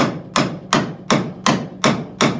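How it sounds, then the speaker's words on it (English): A hammer strikes the control arm of a 1000hp drag car being fitted with QA1 drag suspension, sounding as seven loud, sharp metallic blows at an even, steady rhythm, close by with no talking. "then hit it with a hammer a whole bunch of times"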